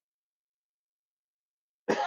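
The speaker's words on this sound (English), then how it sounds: "Good thing I took a deep breath. That way I only cough." Silence, then a single short cough bursts out near the end, close and abrupt.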